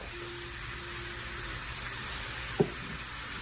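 About 1.5 pounds of ground beef sizzles in a pan as a steady, even hiss, with a brief faint clink partway through.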